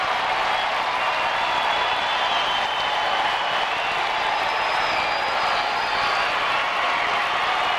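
Large baseball stadium crowd applauding and cheering during a night game between the Royals and the Rangers, a steady distant wash of clapping and crowd noise that holds level throughout.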